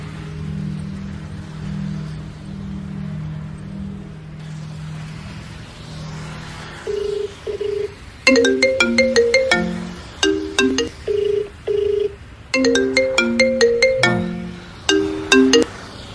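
Tones from a phone keypad, then a ringtone's short repeating melodic phrases in bursts, over a low steady background hum.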